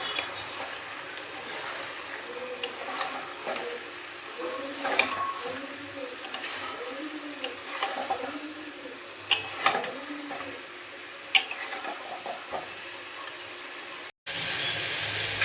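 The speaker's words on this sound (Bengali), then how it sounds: "সমস্ত কিছু ভালো করে মিশিয়ে কষিয়ে নেব।" Mutton with cumin, coriander and turmeric powder and salt being stirred in a pan for kosha, with a steady rhythmic scraping and clinking of the spatula over a soft, low background hiss.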